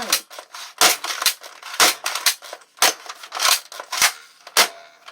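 Nerf gun shots at plastic PET bottles, a quick run of sharp snapping pops and plastic clacks, close and fairly loud, spaced irregularly with brief gaps, no talking.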